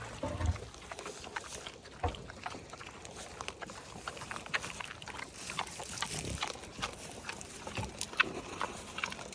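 A sanctuary pig grunts and snuffles close by, irregular short bursts over a steady rustling background, with occasional sharper squeals.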